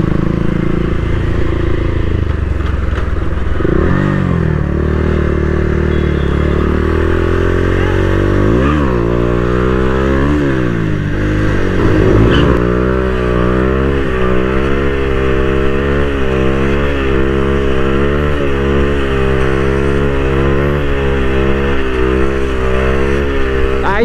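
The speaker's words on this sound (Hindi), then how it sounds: "एक व्हीली मार के ट्राई करते हैं गाइस" A motorcycle engine revving hard up close for a wheelie at a petrol pump, with repeated rising and falling throttle surges over a constant loud idle rumble.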